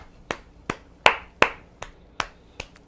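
A single person claps alone, eight crisp, close hand claps spaced about every third of a second with slight unevenness, quiet between strikes.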